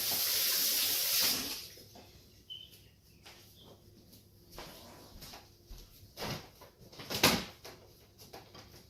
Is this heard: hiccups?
no